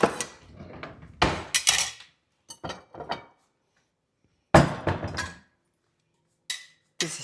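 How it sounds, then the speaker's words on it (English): A big kitchen knife being sharpened in a home kitchen: several short, rasping metallic strokes come in bursts with silent gaps between them, close and fairly loud, with no talking. "is sharpening my knife"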